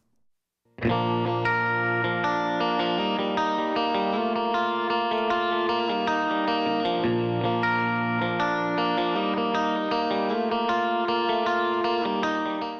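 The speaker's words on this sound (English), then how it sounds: "here's the dry guitar, which is a universal audio amp simulation" A distorted electric guitar, dry through a Universal Audio amp simulation, plays sustained chords steadily with no one speaking.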